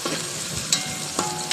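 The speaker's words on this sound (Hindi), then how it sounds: "अच्छे से हम इसको फ्राई करेंगे" Chopped onions fry in hot oil, giving a dense, even sizzle close by, with a couple of brief scraping stirs over the continuous hiss.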